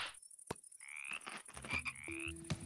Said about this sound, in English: Frogs, look at the frogs!